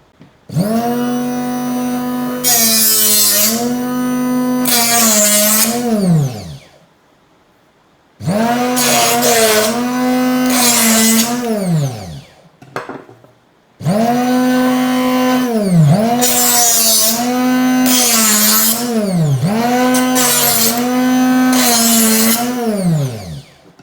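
An Aldi knife sharpener works a knife blade through its coarse stage and then its fine stage: a loud, close whining drone in three long runs, each separated by a short pause, with the pitch dipping repeatedly under load.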